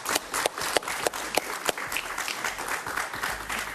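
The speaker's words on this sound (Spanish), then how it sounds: "Un aplauso para Julio Montoya." Studio audience applauding a guest, Venezuelan deputy Julio Montoya, on an interview show: a moderately sized crowd clapping with some individually distinct sharp claps, fairly close and steady, fading slightly toward the end.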